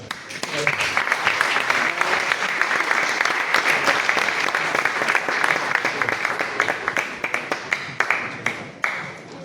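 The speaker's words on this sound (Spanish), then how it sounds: "Le daré un aplauso." Audience applause at a university history congress, a sustained, fairly close crowd of clapping hands that thins into scattered individual claps toward the end, with faint murmuring voices.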